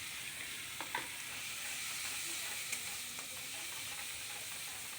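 Stirring masala in a pan with sour yogurt and cashew paste for a potol dorma, a soft steady sizzle with faint scraping strokes, close and moderately quiet, no talking.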